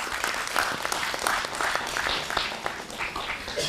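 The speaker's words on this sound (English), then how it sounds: "Please welcome him once again with a huge round of applause." Steady applause from a crowd at a leadership summit and awards event, dense continuous clapping that holds at an even level throughout.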